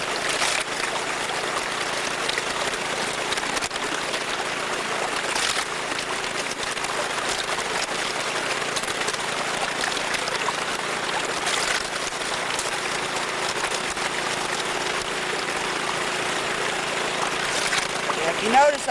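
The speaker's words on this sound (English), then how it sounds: "I'm pouring everything over the riffles of the pan, these ridges here" Muddy water poured off a gold pan over its riffles at a river, a steady trickling, splashing wash that runs through the clip, with a person talking over it.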